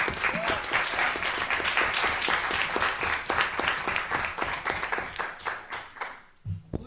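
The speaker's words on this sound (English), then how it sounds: "Let's give another round of applause to all of our delegates." Applause for delegates at a student council meeting: a roomful of people clapping steadily for several seconds, close and even, before it thins out and stops near the end, with a brief voice after.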